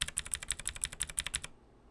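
An old computer keyboard fitted with HyperX Warframe keycaps is typed on key by key, about a dozen crisp, evenly spaced clicks close up, then falls silent.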